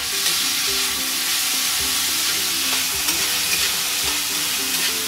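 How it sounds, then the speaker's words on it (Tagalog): Tomatoes for a chicken dish are sautéed in a pan, giving a continuous loud sizzle with occasional soft stirring knocks and no talking. "So, gisa-gisa lang muna natin siya, guys, no."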